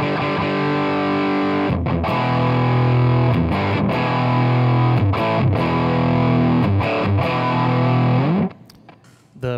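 Mesa Boogie Triaxis preamp on its Lead 2 Green channel with the bass control turned up, driving a thick, heavily overdriven electric guitar through sustained chords and riffs with brief gaps, fading near the end; no talking.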